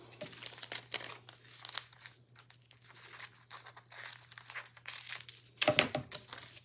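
Packing tape being stretched and pressed onto a cardboard coffee box, giving rough crinkling and tearing rustles in bursts, with a louder rip near the end; fairly quiet and close, with no voices.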